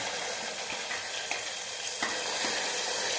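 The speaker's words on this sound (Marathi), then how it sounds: "याला चांगलं आपण पकू देऊया" Onion, black pepper, green chili and tomato frying in hot oil for masala rice, a steady loud sizzle throughout with a few faint stirring clicks, no voices.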